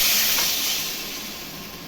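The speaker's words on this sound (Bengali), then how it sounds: "দেখো, ঝোলটা ফুটে গেছে" A steady, bubbling hiss of fish curry broth boiling hard in a pot, close by, easing slightly toward the end.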